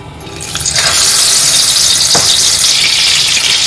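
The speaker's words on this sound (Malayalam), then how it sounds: "എണ്ണ ചൂടായിട്ടുണ്ട്. അപ്പോൾ നമുക്ക് ഈ ഡിപ്പിൽ ഒന്ന് ഡിപ്പ് ചെയ്തെടുത്തിട്ട് ഇങ്ങനെ ഫ്രൈ ചെയ്യാം." Stuffed mussels, dipped in batter and still in their shells, hiss and crackle loudly in hot oil in a close, steady sizzle with a few sharper pops, and nobody is talking.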